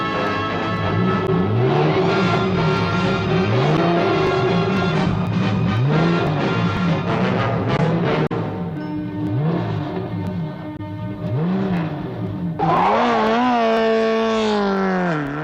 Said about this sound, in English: The pod vehicle of this week is Alan's racing car.